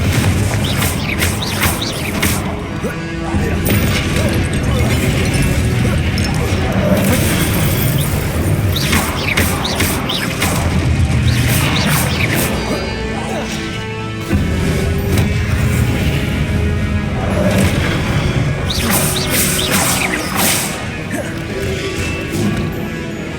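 Blasting spells go off in a Hogwarts Legacy fight, repeated loud crashing explosions and smashes over dense game noise with music-like texture throughout, no pauses.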